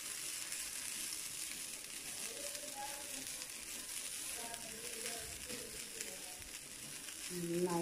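Grated coconut roasting in a pan for carrot coconut payasam, with a soft steady sizzle and faint crackle throughout, close and quiet, along with occasional stirring sounds.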